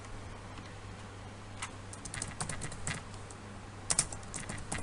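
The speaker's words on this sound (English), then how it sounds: "So I'm going to insert a text box and add it here. Type my name" Typing on a computer keyboard to enter text, a soft, irregular patter of close key clicks that grows busier toward the end, with no talk.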